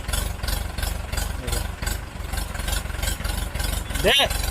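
A village tractor engine runs with a steady, rhythmic thumping chug while straining to pull a load of wood, and a brief rising squeal cuts in near the end.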